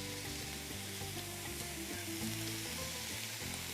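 Ground beef sizzling and frying steadily in a pan, a dense continuous crackle with occasional stirring scrapes, close and fairly loud, no talking.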